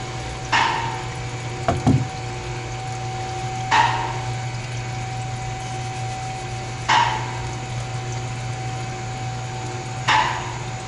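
Coolant drains and gurgles from the hoses of a VW Audi 2.0L TFSI CCTA engine during water pump removal, with a steady low hum underneath and four soft splashy bursts spaced about three seconds apart.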